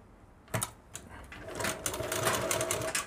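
A domestic sewing machine stitches a doubled neckline strip onto a V-neck garment, its rapid mechanical clatter starting in short bursts and then running steadily, close and fairly quiet, with no voice.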